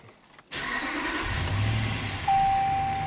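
A Ram pickup's HEMI V8, being diagnosed for fault code P0016 and low power, cranks and catches abruptly, then settles into a steady close idle, with a bright electronic tone coming on near the end.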